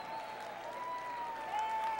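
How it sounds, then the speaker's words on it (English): Audience applause for a jazz orchestra at a live dance-competition show, steady clapping from a large crowd that swells slightly near the end, with a faint sustained tone running underneath. "Can we have another round of applause for the incredible new Millennium Jazz Orchestra?"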